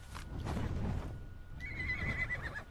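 A unicorn creature in the survival video game Ark neighs and whinnies, a loud, rising cry that trails into a sustained high squeal, heard alone and close without talk.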